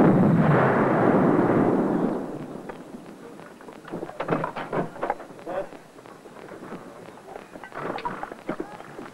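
Tank cannon fires a single heavy shot in an East German television film about an army tank regiment, a loud booming blast that fades over about two seconds, followed by voices, footsteps and clatter.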